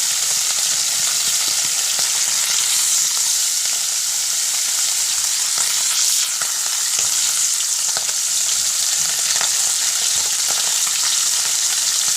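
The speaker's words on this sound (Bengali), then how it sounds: "রান্না বসিয়ে দিয়েছি মাছ ভাজা বসিয়ে দিয়েছি" Fish frying steadily in a pan in a village kitchen, a dense, continuous close sizzle and crackle with a few faint stirring scrapes, no voices.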